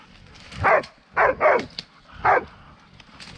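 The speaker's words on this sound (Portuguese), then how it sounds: "Cachorrada coou uma porquinha no mato, no fundo do chiqueiro ali." Hunting dogs bark in short, sharp bursts while baying a wild pig in the brush, a few loud barks with brief pauses between them, close by and with no talk.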